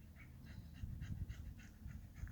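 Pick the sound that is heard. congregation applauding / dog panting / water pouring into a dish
dog panting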